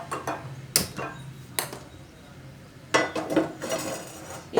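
A metal chapati pan clanks onto a kitchen stove while chicken cooks. Several sharp clattering knocks and clinks of metal on metal come through at close range over a low background hiss.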